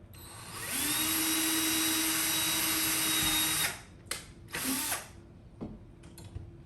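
A power drill bores holes into a garage wall for mounting storage shelves, one long steady whine of about three seconds followed by two shorter bursts, close and loud.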